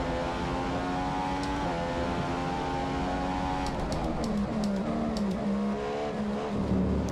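Formula 1 race car engine in the game F1 2015 at Spa-Francorchamps, a loud continuous high-pitched whine rising and dropping through gear shifts, with brief tire squeal, no talking.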